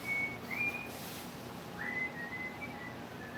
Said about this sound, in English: you can whistle that